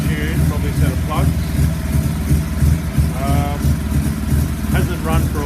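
A long-unused 1981 Mazda RX7 FB with a 12a rotary engine and Weber carburettor idles roughly, needing a tune and plugs, giving a loud, continuous pulsing rumble close by while a person talks over it.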